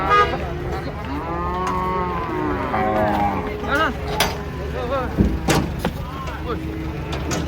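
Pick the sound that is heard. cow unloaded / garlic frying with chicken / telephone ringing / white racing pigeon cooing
cow unloaded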